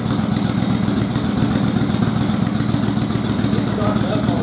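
A Yamaha Virago motorcycle engine, restarted after sitting for many years, runs with a close, loud, rough rhythmic pulsing throughout.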